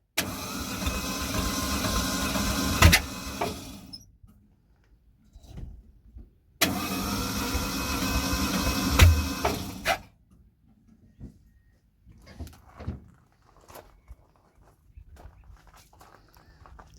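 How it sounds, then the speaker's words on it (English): Carburetted Falcon car engine runs in two rough bursts several seconds apart, with sharp popping backfires through the carburetor cracking out near the end of each burst, then quiet with scattered small knocks. "It's backfiring."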